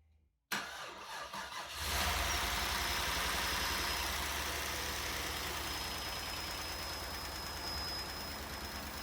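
After a brief silence, a Cadillac Northstar engine with fresh oil cranks and catches in a garage, revving up before settling into a steady, loud idle close by.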